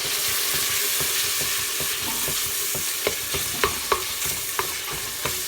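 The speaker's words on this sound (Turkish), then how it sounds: "Bunu da bir güzel kavuruyoruz. Bir kaşık salçamızı ilave ediyorum." Diced beef sautés with tomato paste in a pot for a Turkish dried bean stew, giving a loud constant sizzle with scattered utensil taps and stirring scrapes close by.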